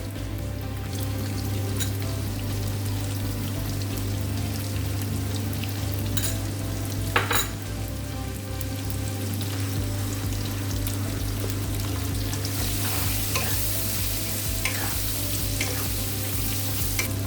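Cut potatoes with a little salt and turmeric frying in a pan for mochar ghonto, a continuous loud sizzle with occasional stirring clicks and a steady low hum, no speech.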